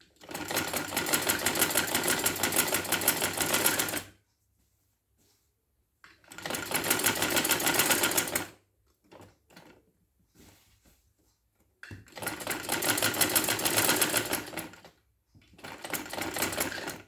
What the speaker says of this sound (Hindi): और डबल सिलाई करेंगे।